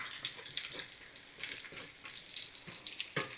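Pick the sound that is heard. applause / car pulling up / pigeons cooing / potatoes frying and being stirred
potatoes frying and being stirred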